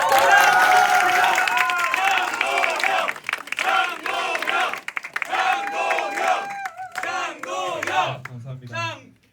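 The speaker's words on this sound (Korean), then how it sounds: "한 분 한 분 소개해드릴 때마다 아낌없는 박수 부탁드리겠습니다" Audience at a youth meeting in Jeju with the People Power Party leader applauds and cheers as a guest is introduced, a dense crowd roar with clapping and shouts that swells, dips and trails off near the end.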